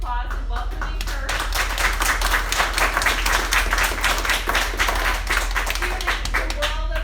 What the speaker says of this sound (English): So I want to give her a big round of applause and welcoming her.